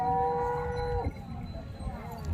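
At the Patoda cattle market a bull gives one loud, drawn-out moo that lasts about a second. Faint market noise follows, and no one talks over it.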